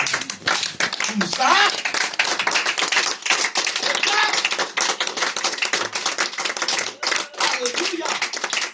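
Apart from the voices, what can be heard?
congregation clapping loudly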